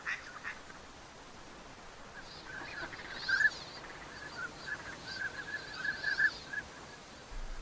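Wild ducks in mid-February pairing season quack in short, faint calls from some distance over a steady outdoor hiss, with a few clustered quacks toward the end.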